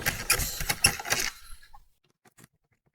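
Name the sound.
removing screws to open up a SAM unit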